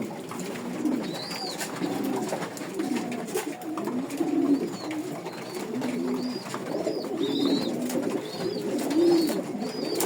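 Pigeons cooing inside a breeding loft: several birds make repeated low, throaty, rolling coos that overlap in an unbroken stream, close and steady, with no talking.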